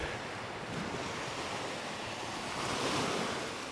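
Ocean waves wash steadily onto a resort beach, a continuous broadband roar of surf mixed with wind buffeting the microphone, swelling slightly near the end, with no voices.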